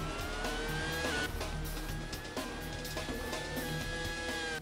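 Lewis Hamilton's Formula One car in a 2008-season racing video game at Valencia whines through a lap, a steady high engine note rising and dipping with gear changes, continuous and fairly faint.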